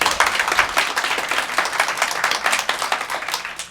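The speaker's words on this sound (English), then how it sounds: "Give him a big round of applause." Audience at an NLP seminar gives a round of applause for Brent, dense rhythmic hand clapping from many people, loud and continuous without speech.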